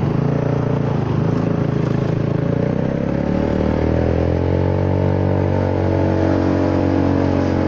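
A Honda Forza 300 scooter engine drones loud and steady while riding, a continuous close hum whose pitch drops slightly partway through, with no talking.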